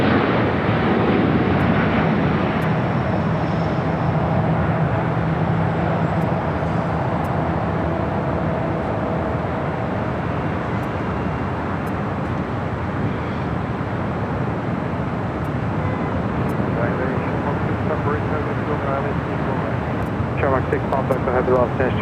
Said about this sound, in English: SAS rolling down the 25 right as we swing it over to the south.